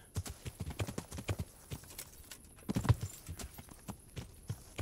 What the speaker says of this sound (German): Gutes Pferd.